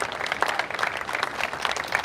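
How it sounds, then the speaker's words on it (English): A fire and rescue graduation audience applauds two graduates, a dense, even roar of clapping sustained throughout at fairly close range. "Round of applause for Mr. Hannon and Ms. Bowley."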